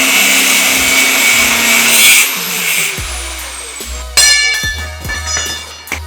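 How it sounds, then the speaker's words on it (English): A power tool grinds through steel coil springs on a Volvo's suspension, a harsh high whine running steadily and then shifting pitch as it bites in, with heavy clunks and knocks in the later part. "now I'm also going to chop 3 springs off here and see how it looks"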